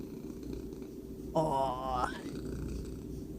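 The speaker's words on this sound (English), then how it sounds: "the sound of a purring cat" A cat purrs close by, a soft, steady low rumble throughout, and a person makes a brief exclamation partway through.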